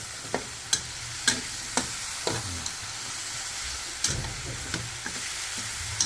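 Tomatoes sauté in a pan for a home-style Filipino dish, a steady close sizzle with repeated sharp scrapes and clacks of a spatula stirring at irregular intervals.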